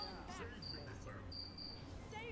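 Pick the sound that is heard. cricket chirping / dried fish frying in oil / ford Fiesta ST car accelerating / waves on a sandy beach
cricket chirping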